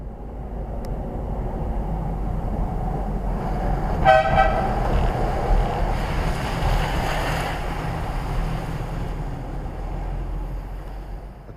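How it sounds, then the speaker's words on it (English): A loud air horn blast from a Land Rover Freelander 2 sounds briefly, then fades into steady rumbling background noise like wind or an idling engine. "Nice and loud, much louder than the factory horn."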